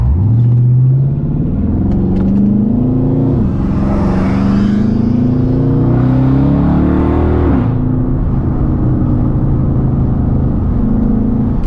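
A Dodge Charger RT with a 5.7 Hemi engine and muffler delete rumbles loudly from inside the car, its deep exhaust note climbing through gears in long rising sweeps with a brief surge of roar midway.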